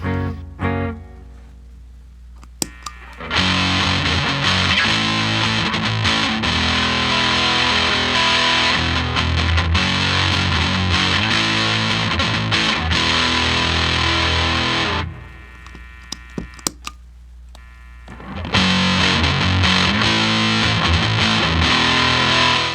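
Electric guitar played through a Behringer DM100 distortion pedal with the gain turned all the way up, giving a loud, saturated, crunchy tone. Sustained riffs ring for long stretches, broken by a short gap of picked notes before the heavy distortion returns.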